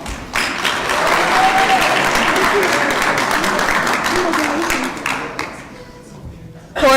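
An audience at a graduation ceremony applauds the certificate graduates with a steady wash of clapping that thins toward the end.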